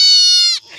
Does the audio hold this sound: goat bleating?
yes